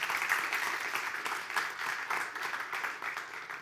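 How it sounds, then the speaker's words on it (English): Applause from a graduation ceremony audience at a school, a steady dense wash of many hands clapping at a moderate, somewhat distant level without pause. "That deserves a big round of applause."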